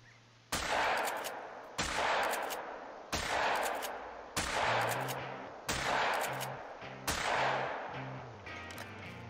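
Six sharp gunshots from a duck-hunting scene in the video game theHunter: Call of the Wild fire at a steady pace, each ending in a short echoing tail, with no voices in between.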